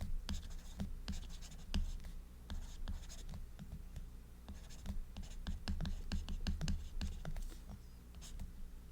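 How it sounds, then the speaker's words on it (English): Marker or chalk scratches across a board in quick bursts of short strokes and taps, fairly faint and close, with pauses between words being written. "so maybe I'll write that over here"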